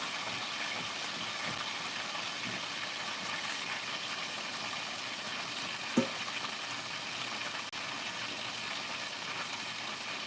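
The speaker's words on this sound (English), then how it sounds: "Grease is popping, y'all. Popping everywhere." Fish fries in hot grease in a skillet: a continuous low, even sizzle with scattered faint pops and one sharper crack about halfway through, and no voices.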